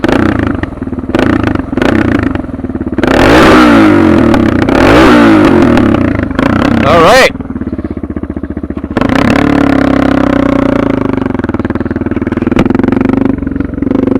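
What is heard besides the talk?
motorcycle engine revving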